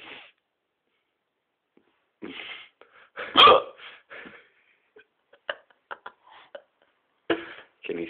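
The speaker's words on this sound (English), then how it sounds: "Can you stop making so much noise with your hiccups?" Hiccups sound out one at a time at irregular intervals, some sharp and loud, others small and faint, with quiet gaps between them and a few soft breathy noises close to the microphone.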